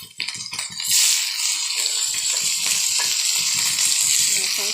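Onions hit hot oil with a sudden loud sizzle that swells into a steady, bright frying hiss, after brief kitchen clatter at the start.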